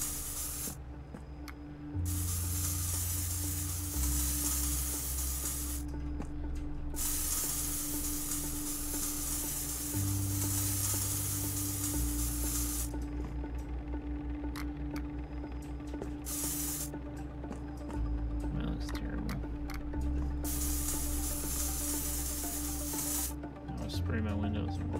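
A handheld spray bottle sprays windows in several long, close hissing bursts separated by brief pauses, over a steady low background hum.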